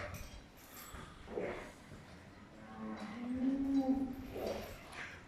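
Cattle in a barn, fattening livestock kept for sacrifice, give low drawn-out moos, one around a second and a half and a longer, louder one near the middle, amid faint clinks and stall noise.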